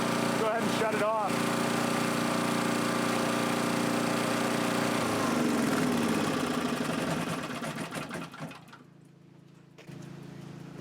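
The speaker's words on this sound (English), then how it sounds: "this little generator works great" A small Coleman generator with a Briggs & Stratton engine running, a loud, close, steady engine drone that winds down and drops away near the end, then a quieter hum.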